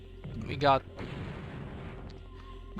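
Artillery fires once in the video game Spellcross, a single deep boom that rises sharply and fades, followed by a low ambient hum and faint background sounds.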